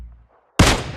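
Gunfire in the video game PUBG Mobile: after a brief quiet gap, one sudden loud shot bursts out and rings on to the end.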